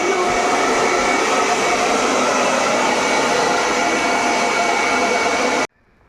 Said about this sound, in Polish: a nie mogę doczekać się efektu, to suszarka